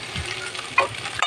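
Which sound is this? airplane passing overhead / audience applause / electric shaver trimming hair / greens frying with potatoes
greens frying with potatoes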